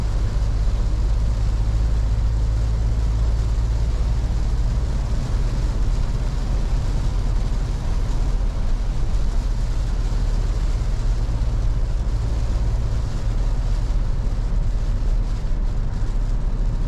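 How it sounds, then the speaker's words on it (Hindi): Rain falls on a parked car with a front sunroof, heard from inside the cabin as a steady, dense hiss and patter with a low rumble, unbroken and fairly loud throughout. "थोड़ा सा बारिश की आवाज़ें एंजॉय करो।"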